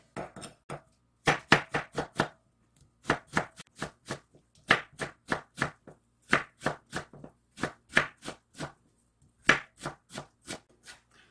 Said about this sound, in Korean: 무를 이렇게 썰어서 준비해 주시고요